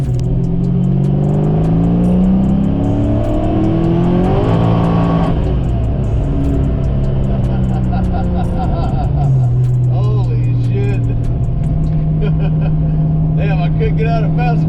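A 1990 GT running 16 pounds of boost accelerates hard, its engine note climbing through rising revs with gear-change dips, then settling into a loud, steady drone close to the microphone.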